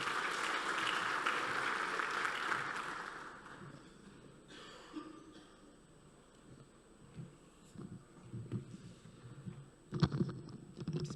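An audience applauding at the opening session of a business conference in Rabat, Morocco. A full burst of clapping lasts about three seconds, then fades into quiet room rustle and scattered small sounds.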